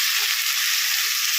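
Vegetables and drumstick stalks frying in a pan as they are stirred, a steady loud sizzle throughout with a couple of soft scraping stirs, no voices.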